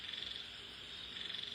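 Frogs croak in a continuous, dense chorus, a steady high trilling drone that sounds fairly close, with no voices over it.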